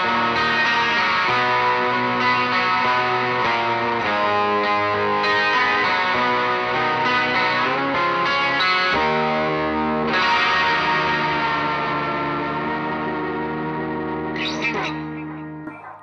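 Electric guitar strumming and picking chords through a mosaic effect with a big delay and lush reverb, a loud continuous wash of sustained, shimmering tones that trails off into echoes at the end, with no talking.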